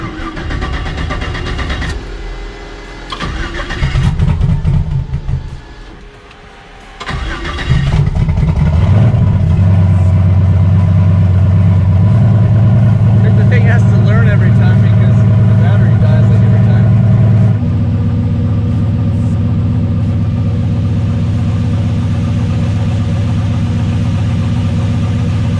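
A Chevy Malibu drag car cranks over and fires, then settles into a loud, deep, rough idle that holds steady and shifts pitch slightly, with voices talking over the start.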